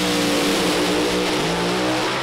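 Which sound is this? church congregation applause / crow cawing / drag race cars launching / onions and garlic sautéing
drag race cars launching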